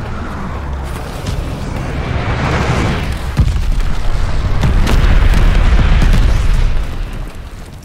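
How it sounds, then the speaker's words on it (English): A glide bomb explodes in a video game: a loud, close boom bursts and rolls into a long, dense roar that swells and holds for several seconds before easing, with no talk over it. "Enemy glide bomb incoming!"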